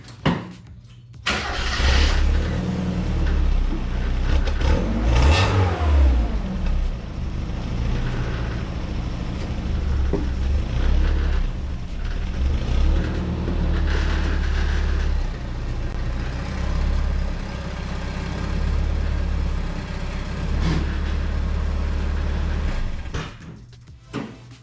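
A Mazda Miata engine cranks and catches, then idles and revs in loud, rough, close waves with mechanical clatter, running continuously before cutting off near the end.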